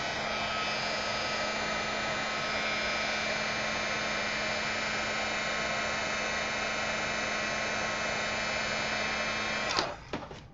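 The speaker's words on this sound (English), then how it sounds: "Going to take your heat gun." A heat gun blows continuously to melt mica embossing powder for a mini album craft, a loud, even whirring hiss with a steady hum, cut off by a brief clatter near the end.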